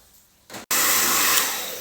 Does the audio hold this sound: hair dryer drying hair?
yes